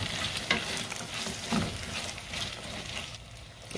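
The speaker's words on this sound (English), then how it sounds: "I'll add stock cube and give it another quick stir." Okra soup with stock cube stirred in a pot, heard as a soft simmering sizzle with a few brief scraping strokes close by, alone without speech.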